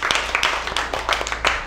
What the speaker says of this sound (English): Come on, give a big clap